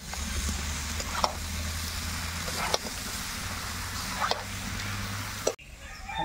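Boiled jackfruit hits melted goat fat in a pan, a loud steady sizzle with a few sharp stirring clinks before the frying cuts off abruptly near the end, no talking.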